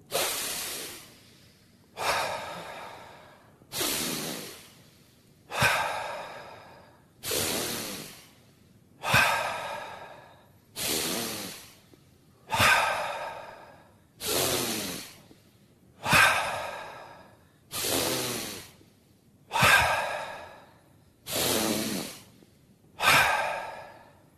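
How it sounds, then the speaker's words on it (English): Slow, deep breathing during a guided breathing exercise: about a dozen long, even breaths in a steady rhythm, each a broad airy rush close to the microphone, alone with brief quiet gaps between them. "Exhale. Begin. Inhale."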